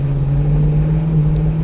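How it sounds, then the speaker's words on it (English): A 1995 Chevrolet Suburban engine holds a fast idle on its own, a loud, steady drone with a constant low tone, close and without talk. "It's still revving around 2200."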